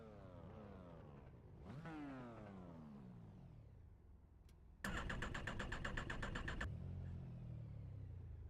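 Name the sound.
race car engine in iRacing video game before standing start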